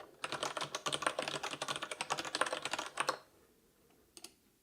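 Fingers type quickly on a custom Kinesis ergonomic keyboard, making dense, rapid key clicks for about three seconds. The typing then stops, and a couple of faint isolated taps follow.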